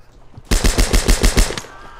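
A loud, close machine gun burst in the video game Hell Let Loose fires about eight rapid, evenly spaced shots, then cuts off sharply.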